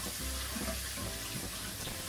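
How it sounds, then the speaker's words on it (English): Quinoa being rinsed under a running kitchen tap, a steady close rush of water splashing into a sink, continuous and fairly quiet for the whole two seconds, with no voices. "So by rinsing our quinoa under the water, it gets rid of that outer layer that actually makes it very bitter."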